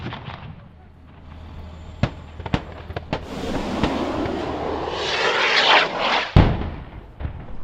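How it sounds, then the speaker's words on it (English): Rocket strike explosions hitting ISIS fighters' positions, heard as a distant rumbling roar that builds and swells, broken by sharp cracks and one heavy blast near the end, with a faint voice underneath. "A rocket strike was then called in to take out what was believed to be the ISIS fighters' positions."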